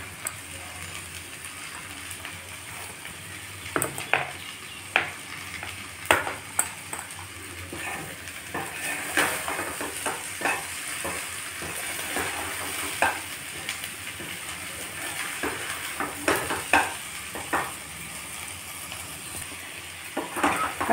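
Slit green chillies fry in a pan of bitter gourd, giving a continuous close sizzle with scattered clinks and scrapes of a stirring spoon against the pan throughout.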